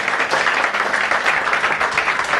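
A church congregation applauding at a worship service, steady dense clapping that fills the whole stretch at moderate loudness with no break.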